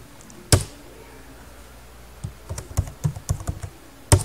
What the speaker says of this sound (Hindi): अब यहाँ पे आप अपनी मर्जी से कुछ भी टाइप कर सकते हैं